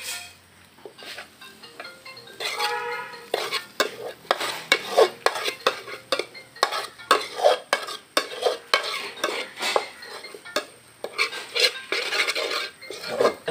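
Clam roast is stirred in a frying pan, with a spoon scraping and clattering in repeated sharp strokes over a soft, steady sizzle.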